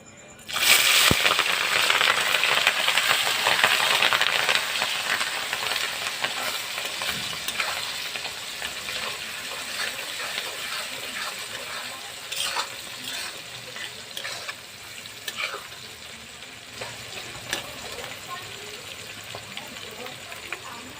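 Onion and green chili hit hot oil for tempering, bursting into a loud, close sizzle that gradually settles into a softer crackle with light stirring.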